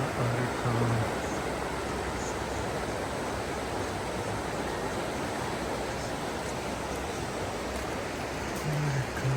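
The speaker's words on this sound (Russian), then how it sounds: "Река, широка река." A wide river near Sochi's mountain resorts in winter rushes steadily, a constant broadband roar of flowing water with no break, close and fairly loud.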